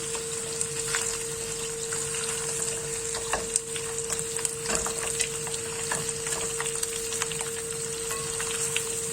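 Rabbit pieces sizzle and brown steadily in a pan for a rabbit chasseur, a continuous bright frying hiss with occasional pops and light clinks, no voices.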